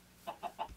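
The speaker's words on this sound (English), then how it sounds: "Hello, chickens." Three short, evenly spaced clucks from Minecraft chickens, clear and moderately close, with no other sounds.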